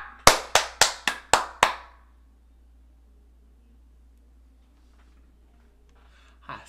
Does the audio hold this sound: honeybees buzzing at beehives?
no